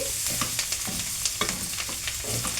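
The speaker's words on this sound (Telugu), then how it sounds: "మంచిగా చక్కగా చికెన్ ఫ్రై అనేది అంతా బాగా కలపాలి" Chicken fry coated in chili powder is stirred in a hot pan, giving a constant close sizzle broken by repeated scraping strokes of the spoon at an uneven rhythm.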